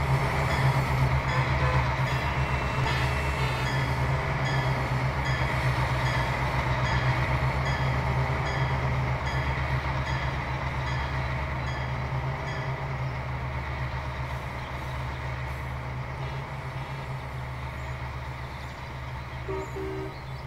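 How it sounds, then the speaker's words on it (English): A train led by two CSX GP38 diesel locomotives in the Trainz 2019 simulator, steady engine drone and rolling rail noise holding at an even level and easing slightly toward the end. "Two CSX GP38s are leading this train today."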